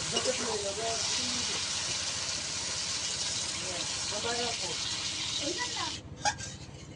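Water poured into frying poppy seed paste with chalmogoj: a steady, loud hissing sizzle runs throughout, while a voice talks over it, before the hiss cuts off near the end amid a clatter.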